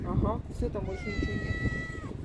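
Cat meowing several times on a night walk in the old town of Dubai, heard close amid street ambience while someone talks over it.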